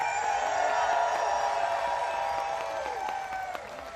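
A huge rally crowd in Washington D.C. cheers and applauds, a dense continuous roar of clapping and shouting that tapers off slightly toward the end.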